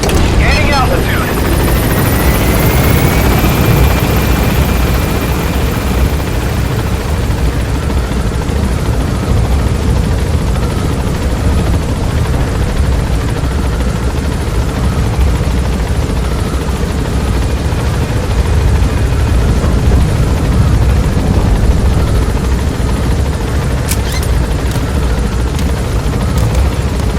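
Helicopter rotor in the Metal Gear video game, a steady loud whirring drone that holds throughout, with a brief rising whine early on and a few sharp clicks near the end.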